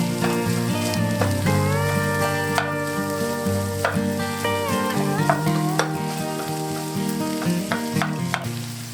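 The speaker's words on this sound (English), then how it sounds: "And fry for a minute" Corned beef sizzling and frying in a pan, a steady close crackle throughout, with occasional utensil scrapes and clinks stirring the meat.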